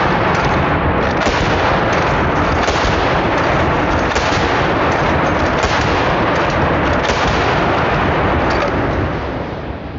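Trench shotgun slamfired in rapid succession, its very loud, distorted blasts crowding together into a near-continuous roar with no pauses or voices.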